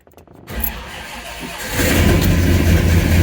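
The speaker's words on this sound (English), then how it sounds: "Car starts." A car with Holley Sniper 2 EFI fuel injection cranks and fires up. There is a brief quiet moment, then the starter catches and the engine rises to a steady, rumbling idle close by.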